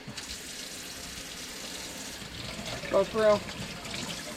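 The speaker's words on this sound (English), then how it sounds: "just rinse them off" Tap water runs steadily into a sink as eggs are rinsed for pickling, close and continuous, with a brief spoken voice over it.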